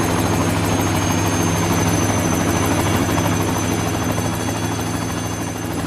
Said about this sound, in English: a fleet of 3 Llama helicopters take to the air